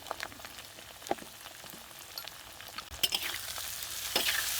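A spice paste with onion, tomato, salt and turmeric fries in a pan with a close, crackling sizzle, broken by scattered spatula taps, growing louder toward the end.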